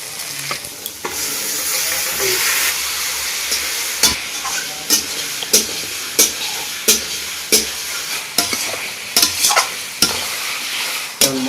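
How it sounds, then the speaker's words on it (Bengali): Chicken pieces tipped into a pan of spicy masala with whole green chillies and chunky onion sizzle loudly and steadily, while a spoon scrapes and stirs in repeated sharp knocks against the pan. "মাংসটা মশলাটা গোটা গোটা আছে এবার আমি মাংসটা দিয়ে দিচ্ছি"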